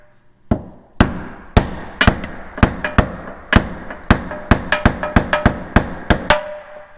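A hammer knocking a flange fitting loose, about fifteen sharp, ringing metallic strikes at an uneven, quickening pace, close and loud, each with a short metallic ring-off, no talking.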